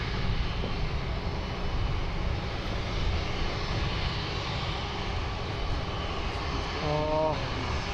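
A Qantas airliner passes at Sydney Airport, its engine roar a steady, loud broadband rumble that holds throughout with no fade, joined near the end by a brief tonal whine.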